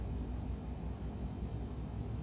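Twin piston engines of a PA31 Navajo in X-Plane 11 roar steadily at takeoff power, a dense continuous low drone with no talk over it.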